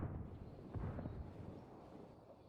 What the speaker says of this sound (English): Blue team is doing a good job with that mortar